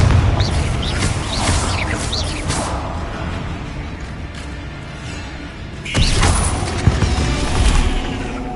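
An explosive Confringo spell bursts in the Hogwarts Legacy video game amid combat, with booming blasts, whooshes and magical impacts layered over busy game effects, one sharp burst standing out near the end.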